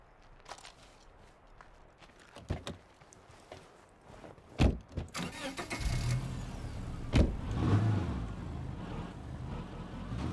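A car in the zombie-survival video game State of Decay 2 drives up near a gas station and parks: faint clicks and thumps give way to a steadily rising engine rumble that stays loud to the end, with no talking.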